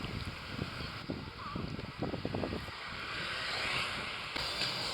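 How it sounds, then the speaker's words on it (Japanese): Steady roar of busy street traffic in Kaohsiung, Taiwan, with many motorbikes and cars passing close by, a constant wash of vehicle noise and rumble throughout. "そしてバイクとか車の量が多い。"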